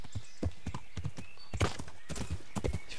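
Horse hooves clip-clop steadily on the ground in the medieval video game Kingdom Come: Deliverance, a close, even, rhythmic trot with faint background ambience and no voices.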